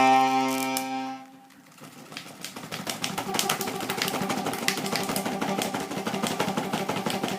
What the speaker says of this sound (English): Sorry, we're having accordion malfunctions.